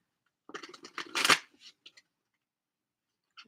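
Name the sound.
shuffling tarot cards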